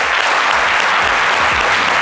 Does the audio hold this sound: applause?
yes